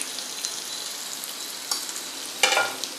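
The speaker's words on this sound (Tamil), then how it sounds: "இட்லி வந்து நல்லா எண்ணெயில் பிரட்டி விடுங்க, அது வந்து அப்படியே பொரியணும்." Idli pieces frying in oil in a pan with onions, a soft steady sizzle close by, with a few stirring scrapes and a louder burst of crackling near the end.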